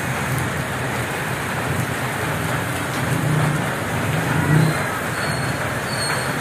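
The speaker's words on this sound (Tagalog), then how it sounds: "kusog yapon ang ulan" Heavy rain pours down in a constant broad wash of noise, with a low rumble swelling briefly near the end.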